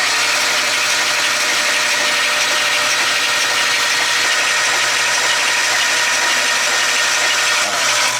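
A Nissan RB engine is cranked and runs with a loud, steady mechanical roar and drone, close by and continuous throughout, with no talk.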